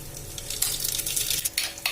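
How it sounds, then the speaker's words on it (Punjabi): Cumin seeds sizzle and crackle in hot oil inside a pressure cooker for a carrot-and-pea curry, giving a steady close frying hiss with irregular brighter bursts and no voices. "ਕੁੱਕਰ ਦੇ ਵਿੱਚ ਤੇਲ ਗਰਮ ਹੋਣਾ ਰੱਖ ਦਿੱਤਾ ਤੇ ਹੁਣ ਅਸੀਂ ਇਹਦੇ ਵਿੱਚ ਜੀਰਾ ਪਾ ਦਾਂਗੇ"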